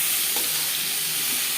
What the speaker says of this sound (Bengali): গরম করে নেওয়ার পর দিয়ে দিলাম ম্যারিনেট করে রাখা মাছ